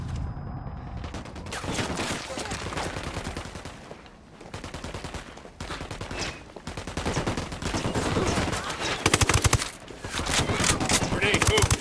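Rapid bursts of automatic gunfire crackle in a Ghost Recon Wildlands firefight, loud close volleys with brief pauses between strings of shots, under faint voices.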